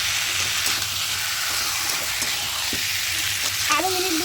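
Tomato and ketchup paste is sautéed for a spinach chicken curry, giving a loud, continuous frying sizzle with light stirring scrapes and a brief utensil squeak near the end.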